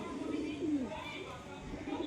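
Low, rolling coos from a male pigeon kept in a breeding loft, close by and continuous, with a faint chirp or two in the background.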